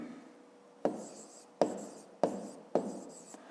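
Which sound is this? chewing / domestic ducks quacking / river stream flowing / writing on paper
writing on paper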